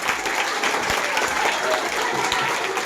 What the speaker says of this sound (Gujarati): તાળી પાડી દો.